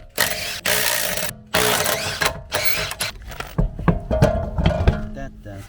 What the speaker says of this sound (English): Then we're going to take all of these wheel nuts off and put the tyre out of the way.